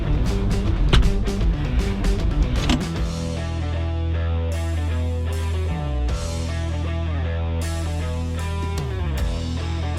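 A 1995 Ford Mustang GT 5.0L convertible's power top motor whirs loud and close for about ten seconds. The whine is steady, with pitch dips partway through as the mechanism shifts.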